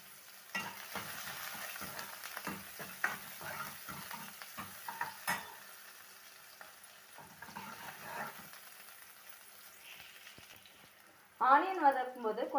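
Onions fry in a pan for radish sambar, giving a soft steady sizzle with intermittent stirring scrapes and taps, while someone talks throughout.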